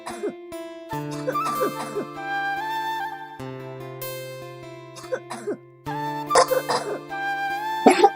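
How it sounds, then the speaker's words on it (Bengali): A person with a persistent, days-long cough coughs in several bursts over sustained background music in a staged domestic scene. "কদিন ধরে খুব কাশি হচ্ছে, কাশিটা থামছেই না"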